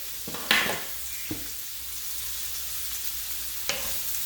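Sea scallops sear in a hot pan with a steady, close sizzle, broken by a few light clicks and scrapes. There is no talking.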